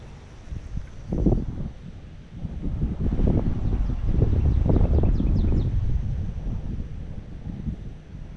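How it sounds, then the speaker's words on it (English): Wind blowing outdoors around ponds after a big storm, gusty low rushing and buffeting against the microphone, swelling louder in the middle before easing. "Still pretty windy."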